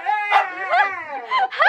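Puppies at a home's front door yipping and whimpering in high, close, excited bursts, several short cries running together.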